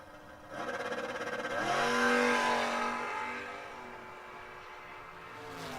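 Drag race cars launch side by side at the Mike Smith Memorial Race, Hickman's Camaro among them, with a loud roar of engines bursting in after a brief pause, then climbing in pitch and slowly fading as the cars pull away.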